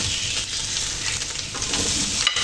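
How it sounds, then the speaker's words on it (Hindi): Mixed vegetables frying in a hot pan as filling for homemade spring rolls, a steady, loud, close sizzle that runs throughout with no talk. "इसके साथ ही हम इसमें ये वेजिटेबल डालकर इनको भी फ्राई कर लेंगे।"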